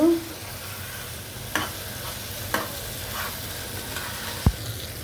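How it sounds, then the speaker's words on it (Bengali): Cauliflower florets stirred while frying in a pan, a steady sizzle with a few sharp utensil scrapes and one loud clack near the end, no talking. "ফুলকি দিয়ে আমি ভেজে নিই। আমি একটু নেড়ে দিব।"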